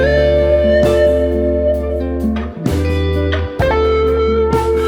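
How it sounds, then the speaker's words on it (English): Guitar tone run through an automated wah in AmpliTube 5 software, sweeping in a stiff, machine-like rhythm over sustained chords, loud and alone with brief dropouts between phrases. "we'll draw in a very robotic and completely unnatural wah rhythm"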